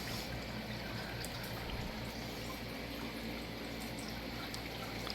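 Creek water flowing steadily with a continuous trickling, pouring wash while algae is pulled out by hand in a garden creek, a near, even stream with faint splashes throughout.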